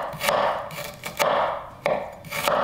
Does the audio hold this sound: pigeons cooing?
no